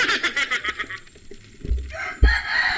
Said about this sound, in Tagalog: Sunod-sunod ang sigaw ng mga manok.